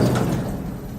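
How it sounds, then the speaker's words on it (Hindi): A heavy elevator door slides open with a dull, loud rumbling whoosh that fades over about a second, heard alone in a horror story setting. "और जैसे ही लिफ्ट का दरवाजा खुला,"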